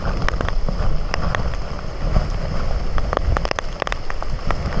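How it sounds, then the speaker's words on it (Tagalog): Heavy rain pours steadily, a dense hiss with scattered sharp drops pattering close by, with no voices. "Ang lakas ng ulan."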